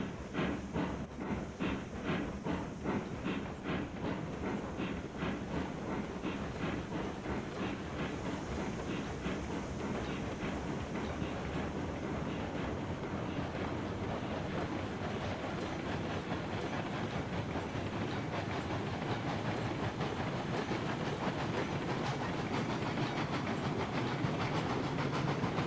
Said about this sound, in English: Then this train can pick up the beams and the lumber